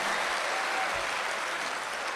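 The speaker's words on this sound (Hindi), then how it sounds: "एक बार तालियां बजाएं जोर से" An audience applauds loudly and steadily at a Hindi poetry recital, with dense, continuous clapping that holds for a couple of seconds without any voices.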